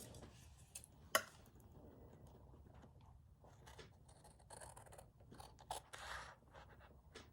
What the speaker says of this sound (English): get the scissors and give it a little trim